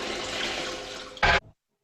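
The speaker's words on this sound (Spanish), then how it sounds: "El agua y su contenido caerán por la tubería con ese ruido tan familiar que se produce al tirar de la cadena" A toilet flushes with rushing, gurgling water draining down the pipe, loud and close, then ends with a short sharp burst before the sound cuts to silence.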